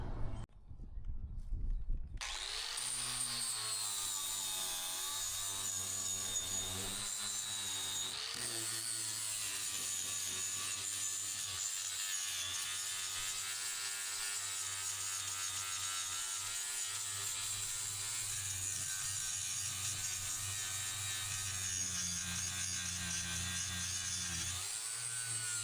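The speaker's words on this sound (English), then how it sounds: "what I'm doing here is I'm knocking the surface rust off of these" Steady grinding or wire-brushing of surface rust from rectangular steel scrap tubes, a continuous loud abrasive whir that starts after a brief pause and runs without break.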